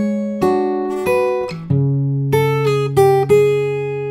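Fingerstyle acoustic guitar plays a phrase of the theme from Howl's Moving Castle, with a handful of plucked notes and chords ringing out clearly and close, no voices.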